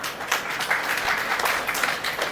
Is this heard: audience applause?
yes